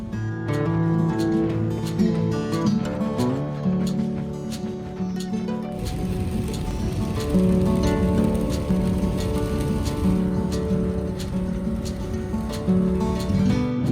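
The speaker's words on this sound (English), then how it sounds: "I know I'm going to have rain no matter what" Steady rain on a campsite by the sea on the Washington coast in winter, a dense continuous patter drumming on a nearby surface, growing heavier and harsher midway and staying loud, with no talk.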